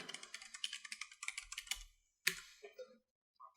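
A password is typed on a computer keyboard, a quick run of light, close key clicks at a steady rhythm, then a brief pause and a few final taps.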